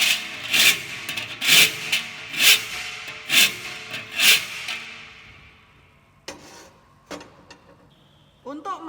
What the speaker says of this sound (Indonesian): dilanjutkan dengan merapikan lubang yang sudah dibuat dengan menggunakan kikir